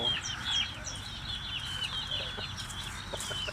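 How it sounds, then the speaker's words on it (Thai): Chickens cluck in short, repeated calls in an outdoor vegetable garden, fairly faint over a noisy background with no talking. "มีน้องไก่ด้วย"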